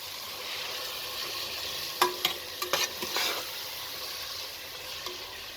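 Mutton curry with potatoes and ground cumin paste fries in a pot, with a steady close sizzle and a burst of sharp stirring clatters in the middle.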